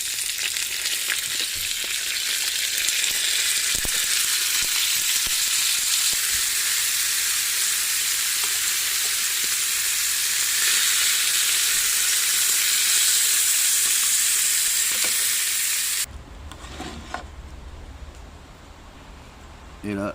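Tuna pieces sear in a very hot pan with a little sesame oil, giving a loud, steady broadband sizzle that runs continuously, then cuts off abruptly near the end, leaving low rumbling handling noise.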